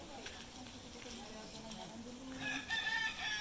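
A rooster crows in the background at a mini zoo amid ambient noise and faint chatter, with some higher chirpy calls toward the end.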